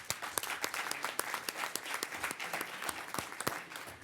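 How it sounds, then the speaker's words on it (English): Scattered applause from a smallish arts and business awards audience, individual claps distinct and irregular, fairly quiet and thinning out near the end. "Again, a round of applause for Jacob."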